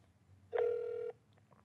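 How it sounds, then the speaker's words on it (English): A phone dialing into a call center: a single steady tone lasting about half a second, clear and close against a quiet background, followed by faint small beeps. "Let's see what happens when I dial into the call center."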